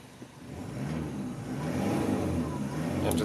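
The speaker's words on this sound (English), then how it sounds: "Engine sounds healthy." A 1996 Toyota Hiace turbo diesel van's 1KZ-TE engine runs steadily at moderate idle, a low rumbling drone that swells slightly, heard from close by.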